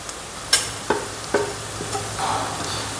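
Curry leaves, ginger and green chili sauté in a pan for a Kerala sardine curry: a soft sizzle broken by several sharp scraping strokes of a spatula, close and clear.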